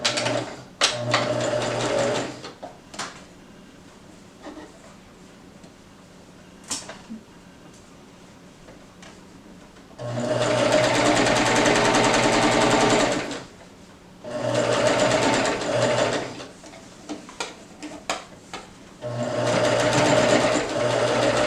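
Sewing machine stitching a fabric face mask, close rapid mechanical chattering in several bursts, broken by quiet pauses with small clicks and handling noises.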